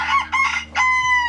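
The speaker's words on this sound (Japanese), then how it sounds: "卵を産む卵産み専用のニワトリです" Large egg-laying hens in a coop, a close, loud burst of clucking and crowing calls in quick succession, one note held at the end.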